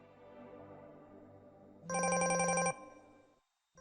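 A telephone rings once in a short, loud electronic burst of under a second, rising over a quieter background and then falling away to silence.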